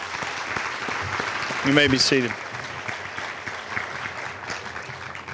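Audience applause fills a graduation ceremony hall at the Pitt County Schools PCC Early College graduation, a steady wash of many hands clapping while a voice briefly speaks over it through the PA.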